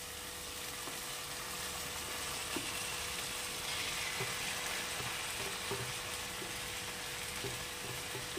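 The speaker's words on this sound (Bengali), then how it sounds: "এই এঁচোড় আর আলুটা আমি ঢেলে দেবো।" Fried unripe jackfruit and potato pieces sizzle steadily in hot spiced oil while being stirred in a pan for Bengali echorer kalia, a continuous close frying hiss with no talk.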